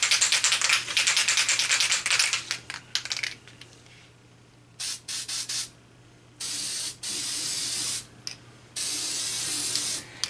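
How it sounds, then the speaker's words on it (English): Copper spray gasket is sprayed from an aerosol can onto a Volkswagen diesel cylinder head, a loud hissing spray at first, then several short separate bursts with quiet pauses between them. "We're going to use copper spray gasket."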